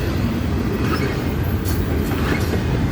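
A freight train with a distributed-power (DPU) locomotive rolls past at a rail crossing near Fosterville, Tennessee, giving a steady, loud rumble and wheel noise with faint clacking throughout, no voices.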